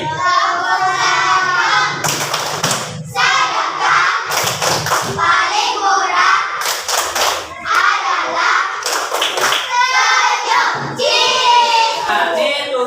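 Children in a classroom perform a rhythmic group clapping game, sharp claps and thumps in a patterned beat, loud and close, with children's chanting voices mixed throughout.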